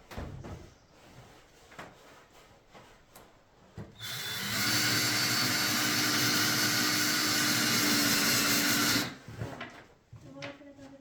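A power drill drives screws into a wooden shed floor, a loud steady whirring burst lasting about five seconds in the middle, with quieter knocks and handling noises before and after.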